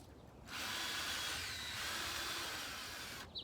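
Power drill fitted with an auger attachment spinning into loose, recently turned garden soil, a quiet steady whir lasting about three seconds before stopping, heard alone.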